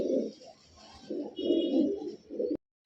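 Giribaz pigeons coo close by in low, throaty rolling bursts, several phrases in a row separated by short pauses, with no talking.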